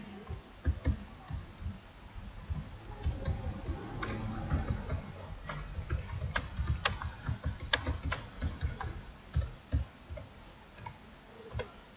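Someone types code on a computer keyboard, a quick irregular run of light clicking keystrokes at close range with short pauses between bursts, and no one talks.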